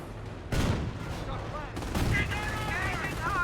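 Battlefield gunfire rakes US rifle squads in the World War II strategy game Company of Heroes: loud bursts crack in at about half a second and again near 1.75 seconds, then rattle on under a voice talking over the fighting.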